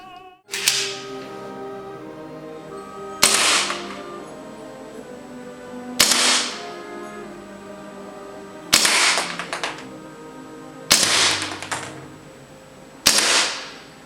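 A WE TT-33 gas airsoft pistol fires six sharp, loud shots spaced a few seconds apart, each crack trailing into a short ringing decay, with a faint steady tone and room hum between them.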